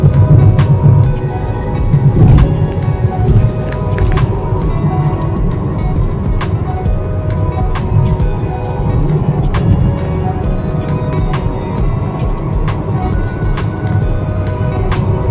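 A car driving along a smooth, good road toward Siliguri, with a steady, even rumble of engine and road noise throughout, close and fairly loud, with occasional faint clicks and no speech.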